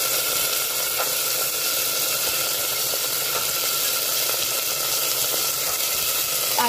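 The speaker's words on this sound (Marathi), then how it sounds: "आता हे सगळं नीट परतवून घ्यायचं आहे। भाजीला फोडणी खमंग बसली पाहिजे।" Green peas stirred through a spiced tempering in a pan give off a steady, even sizzling hiss that carries on without a break.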